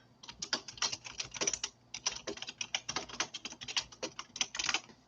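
Rapid typing on a computer keyboard while notes are written down during a tabletop gaming session, a steady run of close, crisp key clicks with brief pauses, no talking.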